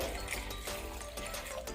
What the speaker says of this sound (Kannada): ನೀರು ಹಾಕೊಳ್ಳೋಣ.